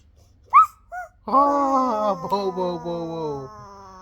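A human voice mimicking a dog, with a couple of short yips followed by a long whining, howling bark that trails off, performed alone at close range.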